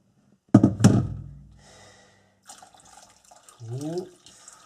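Hot water is poured into a pot to rinse out caramelised molasses left from making ginger beer: two sharp splashes, then a quieter trickle and a swirl of water sloshing around, with a person speaking briefly.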